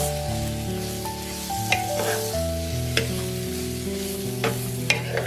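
Vegetables stir-fried in a pan for pancit miki guisado with minced pork and shrimp, a steady close sizzle with a few sharp utensil clicks, under background music.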